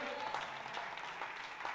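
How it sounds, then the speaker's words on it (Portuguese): Church congregation applauding the Lord during a service, a brief, fairly faint wash of clapping with voices mixed in. "Aplauda o Senhor para a revelação."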